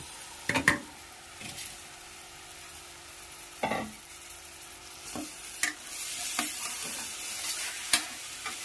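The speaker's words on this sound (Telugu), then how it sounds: "ఇలా బియ్యాన్ని కొద్దిసేపు ఫ్రై చేయాలి" Washed rice fries in a pressure cooker as a spoon stirs it, producing scattered scraping clicks over a soft, steady sizzle, fairly quiet and with no voices.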